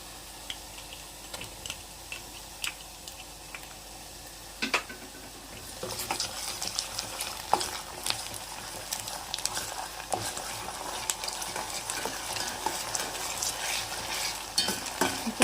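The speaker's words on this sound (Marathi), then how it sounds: "आता आपण त्यामध्ये आलं लसूण पेस्ट घालून घेऊया." Ginger garlic paste hitting hot oil in a pan while making prawn biryani, starting as faint sizzling and turning into louder, busier frying with stirring clicks and scrapes.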